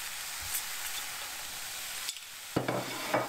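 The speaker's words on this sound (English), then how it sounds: "And give it a mix." Seasoned keema mince is stirred in a pan with a soft sizzle, and a few scraping strokes of a spoon are heard against the metal toward the end.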